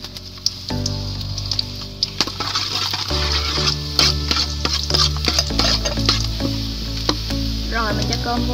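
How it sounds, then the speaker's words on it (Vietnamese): Fried rice with basil-like É leaves from Nha Trang sizzles and is stirred in a pan: steady frying hiss with repeated scraping and clinking of the utensil against the pan, close up and loud throughout. "Bây giờ chuẩn bị chiên cơm thôi."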